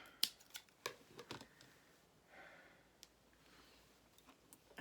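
Scissors trimming the end of a tie on a handmade Christmas tag, several faint close snips and clicks in a very quiet room.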